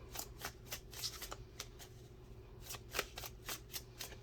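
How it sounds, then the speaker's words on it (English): Tarot cards being shuffled by hand, a quick run of crisp riffling flicks in a rhythmic series, close and fairly soft in a quiet room. "Shuffle again."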